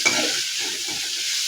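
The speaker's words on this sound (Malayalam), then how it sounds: "സവാള ഒന്ന് വഴറ്റി എടുക്കണം." Onions sautéing in a hot pan for a Kerala chicken curry, a steady close sizzle with soft stirring scrapes running through, no voices.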